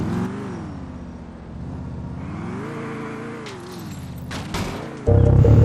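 A car driven in GTA IV, its engine humming and rising and falling in pitch as it accelerates and eases off, steady and close, ending in a sudden loud rushing burst.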